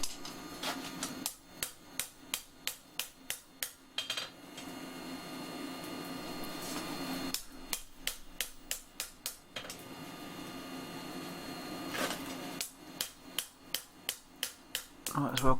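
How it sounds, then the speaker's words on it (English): A steel chef's knife blade is hammered on an anvil in bursts of rapid, sharp ringing blows, several quick rows of strikes separated by brief pauses, close and loud. "Might as well keep it fairly good now, since I'm not going to be doing much more hammering on it."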